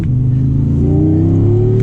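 Audi R8 Spyder V10 engine pulling hard under acceleration from inside the car, a loud, steady rising drone with climbing harmonics throughout and no talking.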